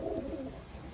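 Pigeons kept for breeding give a brief low, throaty coo up close, with a faint steady background hum.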